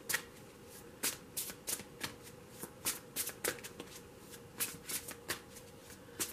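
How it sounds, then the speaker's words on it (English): Tarot cards are shuffled by hand in quick, papery riffles and flicks, a series of brisk bursts close up with short pauses between. "the cards do not want to shuffle for Taurus"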